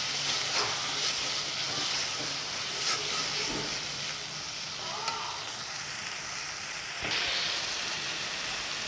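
Spiced chicken with green chili sizzles steadily in a pan, a dense broadband frying hiss with occasional light stirring clicks, constant and fairly close.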